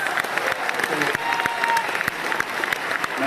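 Steady audience applause at a product launch event in Dadar, dense claps from a crowd continuing throughout at a fairly loud level.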